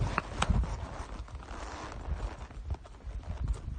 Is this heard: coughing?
no